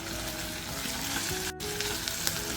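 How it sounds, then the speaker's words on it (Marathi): Lengthwise-sliced ivy gourd sautéing in a pan with onion, a loud, close, continuous sizzle broken by one brief dropout, with no voices. "एक वाटी तोंडली घेतली उभी चिरून घेतली ती घालते छान परतून घ्यायची आहे"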